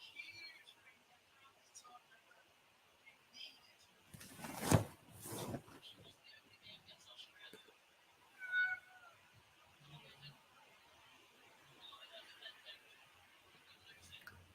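A cat meows a few times, faint and intermittent, amid quiet room noise and scattered speech.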